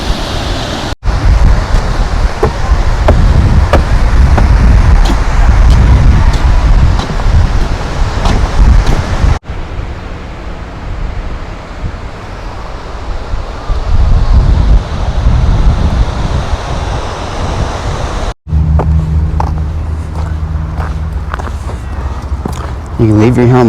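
Loud, steady wind rush buffeting a motorcycle rider's helmet at speed, broadband and roaring with brief cuts between segments; a voice may speak under the noise.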